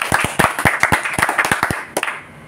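Close, rhythmic group clapping from a seated audience at an Indonesian religious talk: crisp claps repeat in a quick beat, then thin out and fade into near silence at the end.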